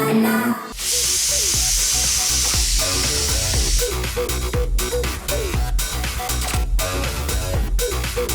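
Beef fry sizzles hard in a hot pan, a loud continuous hiss of frying with clinks and scraping of stirring recurring throughout.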